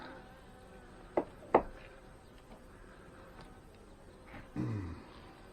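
Honey bees hum and buzz around an opened hive, a steady faint drone with a few sharper close passes near the microphone and no talking.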